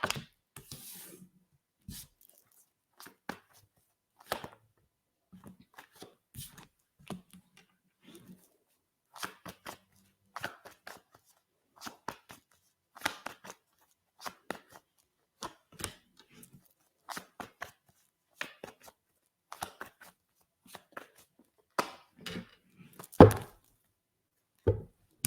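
Tarot cards are shuffled and handled in soft, scattered flicks and taps, quiet and close, with irregular pauses between bursts.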